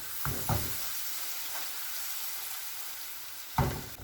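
Full-fat cream being mixed into butterscotch sauce in a pan gives a steady soft sizzle, with a few brief scraping stirs near the start and near the end.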